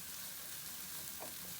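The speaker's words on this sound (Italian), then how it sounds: "perché inizia a sentirsi che frigge" Fregola grains frying together with tomato in a pan, a quiet, steady sizzle with soft crackle throughout and one brief brighter stir-like sound near the end, no talking.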